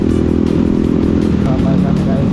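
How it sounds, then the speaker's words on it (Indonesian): A motorbike engine revs and rumbles up close during an off-road ride near Jonggol, a loud continuous throaty drone that fluctuates in pitch, with people talking over it. "Cobain motornya Sigit."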